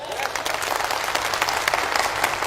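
Audience applause at a direct selling business seminar, steady dense clapping from a crowd filling the whole stretch, loud and continuous without pause.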